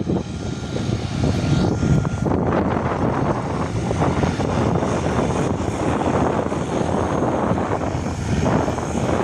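A Diamond DA40 propeller plane takes off on a windy day, its engine drone loud and continuous with a buzzy, pulsing propeller texture and gusty wind buffeting the microphone, no voices.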